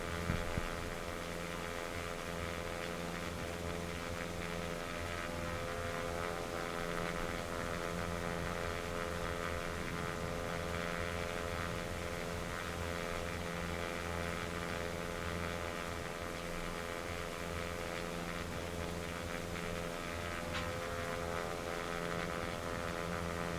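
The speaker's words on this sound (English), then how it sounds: "The noise his engine makes quite therapeutic." A Cessna 172 engine drones in flight in the X-Plane 11 simulator on a Bahamas island-hopping trip, a steady, even propeller hum holding at constant pitch throughout, with no talk.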